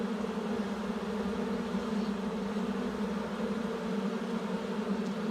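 A honeybee swarm just installed in a hive buzzes and fans steadily, a continuous low droning hum, fairly soft and uninterrupted.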